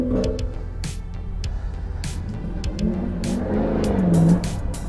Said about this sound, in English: that was a diesel